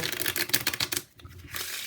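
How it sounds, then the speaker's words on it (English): A deck of playing cards being riffle shuffled, a rapid, close flurry of papery flicks for about a second, then a brief pause and a softer settling riffle. "Say give the deck a riffle shuffle."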